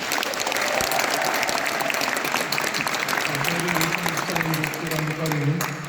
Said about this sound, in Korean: 동생들한테 한번더 박수 부탁드리겠습니다